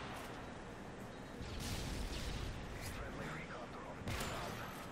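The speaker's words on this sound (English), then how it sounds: "There are fucking grenades flying in here." Grenade blasts and gunfire rattle through a Modern Warfare 3 match, dense crackling bursts and booms layered over game noise, with a player talking over the action.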